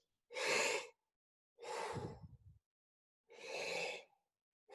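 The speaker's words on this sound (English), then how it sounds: "we're just taking breath like this" Deep breaths drawn in with no resistance: three separate airy inhalations, close and clear, with short quiet pauses between them.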